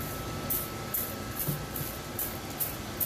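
Repeated short hissy spray bursts of cleaner during Viessmann boiler maintenance, about seven evenly spaced, over a steady low background hum.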